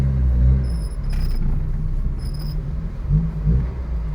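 A 1974 first-generation Honda Civic with a new clutch, its small engine rumbling steadily at low revs as it pulls away in first gear, a deep continuous drone that swells slightly near the end.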